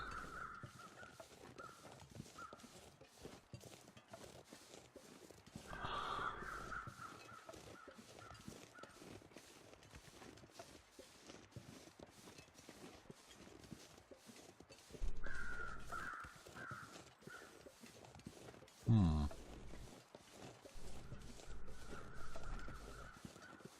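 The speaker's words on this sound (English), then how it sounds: "There's the other set of crows." Crows caw in a snowy birch forest in the survival game The Long Dark, a few scattered calls over faint wind, with a louder, closer burst near the end.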